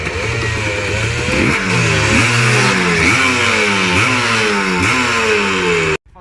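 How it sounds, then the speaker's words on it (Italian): A rare Gilera Fastbike 200 motorcycle engine revs repeatedly, loud and close, its pitch rising and falling in a steady series of throttle blips before cutting off abruptly at the end. "Fastbike 200 è una moto della Gilera, ovviamente c'è scritto, molto rara."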